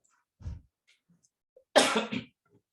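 Two separate coughs, a soft low one followed by a louder, harsher, raspy cough, close and alone in a quiet room.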